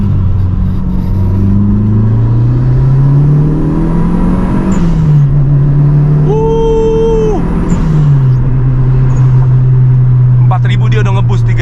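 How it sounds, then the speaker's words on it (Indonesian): A Mitsubishi Evo 5 turbo car drives with a loud, steady engine drone that rises and shifts in pitch through gear changes, with a brief hissing whoosh of the blow-off valve between throttle changes. "Yang penting gue udah ngedengerin suara blow off-nya, udah puas sekali ya."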